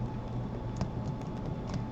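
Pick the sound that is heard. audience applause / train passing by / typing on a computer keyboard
typing on a computer keyboard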